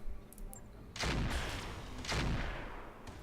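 Mech weapons fire at an enemy commando in the RogueTech video game: two heavy, booming volleys about a second apart, each a loud broadband blast with a lingering rumbling tail.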